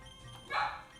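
An indoor dog lets out one short, sharp bark at people outside, close by and loud against a quiet room.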